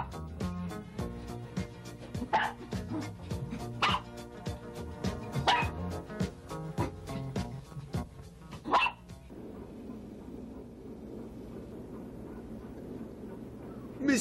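A dog barks repeatedly in sharp separate yaps spaced a second or two apart over loud rhythmic music. The music then drops away, leaving a quieter stretch ending in one more bark.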